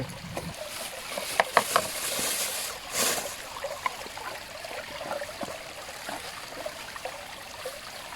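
Steady flowing water of a stream at a waterfall in Thailand fills the background, a continuous outdoor wash with a few brief clatters and movement noises close by.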